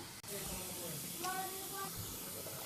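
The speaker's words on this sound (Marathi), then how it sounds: "उकळी यायला लागली आहे बघा" A pot of drumstick curry on a gas stove, flame turned up, is starting to boil, giving off a steady, close hiss and bubbling with a brief tonal whine partway through.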